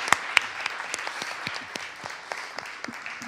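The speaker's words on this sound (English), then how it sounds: "we're just going to applaud our presenters" Audience applauding panel presenters at the close of a panel event on border walls and resistance: a moderate, fairly sparse round of clapping with a few sharp near claps standing out, steady throughout.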